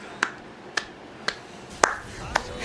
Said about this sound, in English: one man applause